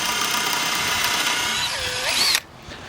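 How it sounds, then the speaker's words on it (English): A power drill whines steadily as it countersinks screw holes in a pond-build post, pitch bending as the load changes before it stops abruptly, leaving quiet room noise. "We can use this drill bit here to countersink the cut screws."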